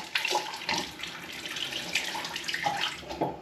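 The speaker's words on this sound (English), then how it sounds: "Rinsing the face with warm water." Warm water runs from a tap into a sink while a face is rinsed, a steady close splashing with uneven surges as hands scoop and splash, no talk.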